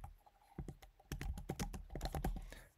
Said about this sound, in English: simply type in summarize this